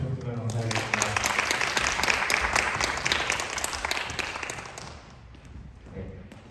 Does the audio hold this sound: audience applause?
yes